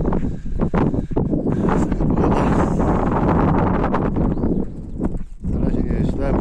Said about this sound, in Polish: wieje wiaterek.